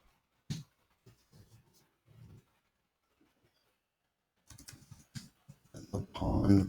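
Computer keyboard typing comes in short bursts of soft, close key clicks with pauses between, then a denser run of taps near the end, plus a few louder handling bumps.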